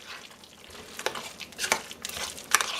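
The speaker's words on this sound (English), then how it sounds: "Then you're going to mix this all together" Broccoli soufflé ingredients stirred together in a bowl: faint, soft wet scraping and stirring with a few sharper clinks of utensil against the dish, close and quiet.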